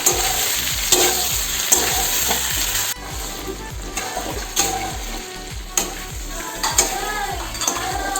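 Pigeon meat stir-frying in a pan with spices for an Assamese curry gives a loud, continuous sizzle, broken by repeated scraping and stirring strokes of a spatula against the metal pan.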